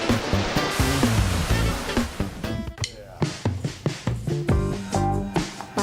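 Big ocean surf crashes and churns in a loud, steady roar, then breaks into choppier splashing bursts where a surfer rides a huge wave.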